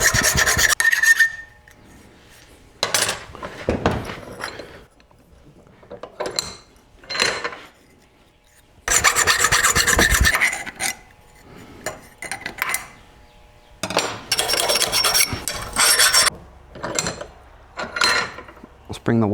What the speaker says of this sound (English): this one really only needs a little bit of filing on the inside.